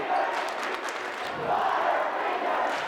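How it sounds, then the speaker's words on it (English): A crowd at a boys' varsity high school basketball game chants in unison, a loud, steady roar of many voices echoing through the gym for about three seconds. "And now you hear the crowd chanting Butterfingers below us."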